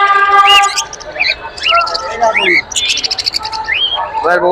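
Lovebirds at Tongi bird market in Bangladesh chirp and whistle in quick, close bursts with a dense layer of other birds calling behind them, and a voice talks through the chirping.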